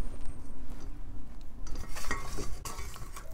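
Spoon stirring a tofu marinade of black pepper and garlic powder in a bowl, a short stretch of scraping and clinking strokes growing louder toward the end, close and with no talking.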